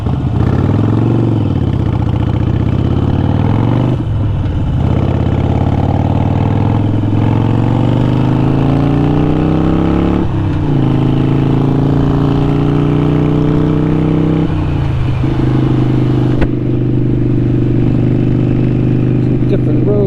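Harley-Davidson 883 Iron motorcycle engine running steadily and close, its pitch climbing and dropping through several gear changes as the bike rides along.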